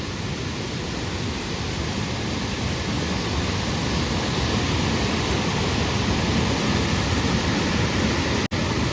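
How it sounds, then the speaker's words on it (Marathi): Loud, constant roar of rushing water from a nearby waterfall, a dense unbroken wash of noise with a brief dropout near the end. "हे बाजूलाच वॉटरफॉल आहे बघा पाण्याचं इतकं प्रेशर आहे की आवाज बघा किती जोरदार येतोय"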